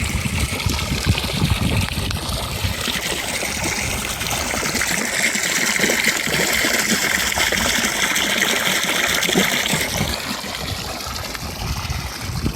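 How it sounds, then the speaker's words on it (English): Water running steadily from a hose on a 2020 Bass Tracker boat, a continuous loud gushing splash close to the microphone with no talk. "And I actually got the hose for that running right here."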